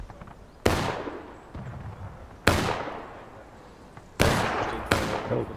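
Four loud, sharp musket gunshots ring out at uneven intervals in the Civil War video game War of Rights, each fading with a short echoing tail, with no talking.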